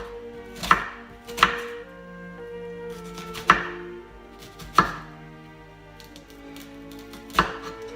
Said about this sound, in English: So we're going to slice the onion.